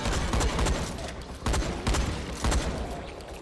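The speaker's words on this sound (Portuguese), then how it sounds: "Tô atirando na Jade aqui." Rapid bursts of gunfire from the zombie game Dying Light, in three dense fusillades about a second apart, loud and close, with explosive cracks layered over a constant din of combat.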